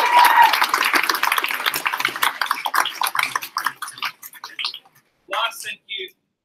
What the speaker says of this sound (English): I just want to have a big round of applause for Kat